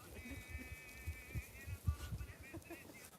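Sheep bleat a few times at a moderate distance over a low, rumbling farmyard background, with faint voices nearby.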